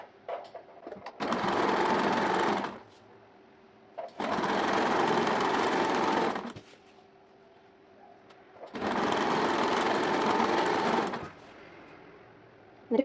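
A sewing machine stitching the slit hem of a churidar runs in three loud steady bursts of a few seconds each, separated by short pauses with a faint motor hum.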